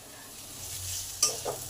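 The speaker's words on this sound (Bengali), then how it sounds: "চাপা দিয়ে বারবার খুলে খুলে নেড়ে নেড়ে এগুলোকে ভেজে নেব।" Pointed gourd and mixed vegetables frying in a pan with salt and turmeric: a hissing sizzle that swells gradually, then a sharp metallic clink and a brief stir near the end.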